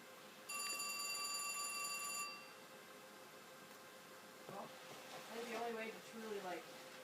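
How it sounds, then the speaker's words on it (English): A telephone rings for about two seconds with an incoming call, a bright electronic trill, followed by a person talking faintly afterward. "So that little interruption was a phone call"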